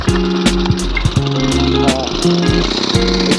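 A grass cutter running outdoors, its motor droning loudly and continuously with pulsing, rattling surges throughout, close by.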